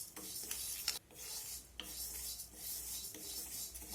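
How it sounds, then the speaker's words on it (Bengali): Moong dal dry-roasting in a pan with no oil, stirred continuously so the grains rasp and scrape against the metal. Rubbing strokes come close and fairly quiet, with brief pauses between them. "প্রথমে শুকনো খোলায় মুগের ডালটাকে ভেজে নেব।"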